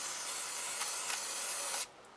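Solvent sprayed from an aerosol can into the firing pin hole of a Taurus G3 pistol, one close steady hiss lasting almost two seconds before cutting off abruptly.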